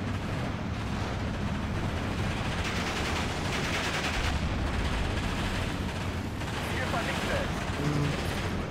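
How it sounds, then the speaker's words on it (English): Artillery and gunfire fill a World War II battle in the tactical strategy game Steel Division 2: a continuous, dense roar of distant blasts and rattling shots with no pause, fairly loud throughout. "There's artillery and stuff everywhere."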